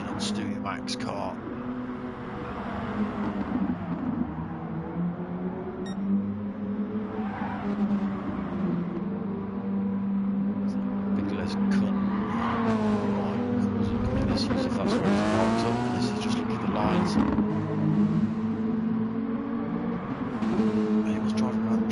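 Racing game engine note from a Toyota Concept '16 cup car at Suzuka, with tyres squealing through corners; a continuous loud engine drone with rising and falling pitch sweeps, while commentators talk over it.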